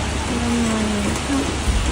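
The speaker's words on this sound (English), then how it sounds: "Another night of rain, and the cars are soaked like this." Heavy rain pours steadily during flooding in Guangxi, a dense, loud wash of falling water with no break.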